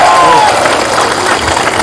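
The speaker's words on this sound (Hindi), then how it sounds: "प्लीज चित्तू बाबू के लिए भी एक ताली मार दीजिए प्लीज" An audience at a political gathering claps and cheers, a loud, dense wash of applause and crowd noise with a few raised voices mixed in.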